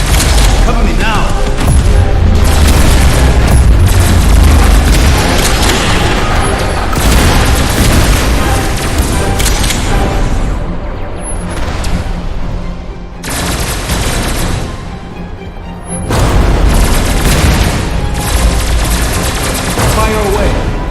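Heavy Gauss cannon fire and explosions in the PS VR sci-fi battle game Unearthing Mars 2 come as loud, dense repeated booms and gunfire bursts with mechanical clatter. Voices talk over them, and there are brief lulls.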